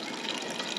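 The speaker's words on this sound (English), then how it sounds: "So it's time to add the broth." Chicken broth poured slowly into a soup pot makes a steady, close splashing pour that runs unbroken and fairly loud, with no voices.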